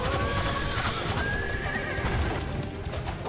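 A horse in the mobile action game Otherworld Legends neighs and whinnies loudly over clip-clopping hooves and busy game effects, filling the whole stretch with no talking.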